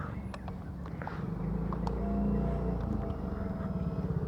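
A motorbike is ridden on the road, its engine giving a low, continuous rumble with a gentle rise in the middle, heard up close with wind and road noise and small knocks, and no speech.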